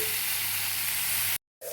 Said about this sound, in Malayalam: നമ്മളിതുപോലെ കുറച്ച് ബട്ടർ ഇട്ടിട്ട് ജസ്റ്റ് ഷാലോ ഫ്രൈ ചെയ്തെടുത്താൽ മതി